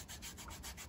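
A nail file rubbing against skin during a pedicure, a steady close scraping rasp that runs without pause for under a second, with no voices.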